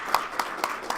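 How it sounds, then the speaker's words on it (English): An audience claps for Kem after a talk on engaging first-generation learners, a short run of about four spaced claps, fairly close and moderately loud. "let's give Kem a clap."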